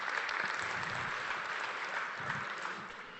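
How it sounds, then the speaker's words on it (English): Audience applause at a public talk by Québec's Minister of Economy, Science and Innovation: dense, steady clapping from many hands that holds throughout, close and fairly loud, with no talking. "Yes, you can applaud."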